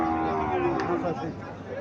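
A desi cow at a cattle market in Chandimura, Comilla, gives a short, low moo with harmonic overtones, heard fairly close against faint background chatter.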